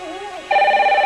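A telephone rings with no one answering, a steady electronic ringing tone that starts clearly and holds at an even level after a brief fainter tonal passage.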